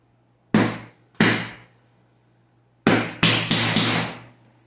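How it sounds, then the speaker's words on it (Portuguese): A hammer strikes a small 2 cm wooden connecting piece at close range: two loud sharp blows, a pause, then a quicker run of about four more, each with a short ringing decay. "Então a gente vai martelar, ó, a pecinha de 2 centímetros aqui."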